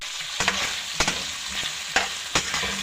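Beef caldereta with tomato sauce being stirred in a pan, a gentle continuous sizzle with several sharp scrapes and clinks of the spoon against the pan at irregular intervals, close and moderately loud, no talking.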